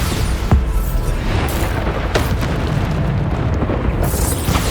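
Bombarda explosion spell cast in the video game Hogwarts Legacy, a continuous dense rumbling blast texture with a sharp burst near the start and more bursts later, loud throughout amid game combat noise.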